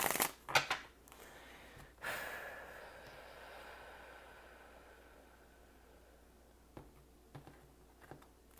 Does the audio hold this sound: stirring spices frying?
no